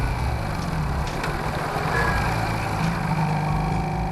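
A motor engine runs at a steady idle, a constant low rumble with no breaks.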